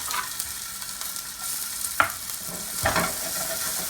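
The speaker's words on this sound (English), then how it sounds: "we're going to go ahead and start to saute the shrimp" Shrimp and a quarter onion sauté in a pan with a steady close sizzle, broken by a few sharp clacks and scrapes as the food is stirred, no voices.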